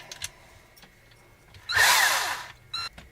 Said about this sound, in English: we've grabbed our cordless drill here.